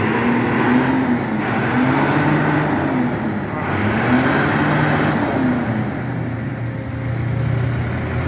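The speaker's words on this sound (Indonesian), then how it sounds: "Apa ini mengaum-ngaum mobil Rosalia ini yang ke Surabaya ini" A Rosalia Indah bus bound for Surabaya, its engine out of tune, roars steadily and loud from close by, the pitch rising and falling in repeated revs with no talking.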